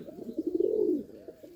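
A pigeon near a dovecote gives one soft, low, rolling coo, close and alone against quiet background.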